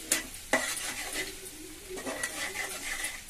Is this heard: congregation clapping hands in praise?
no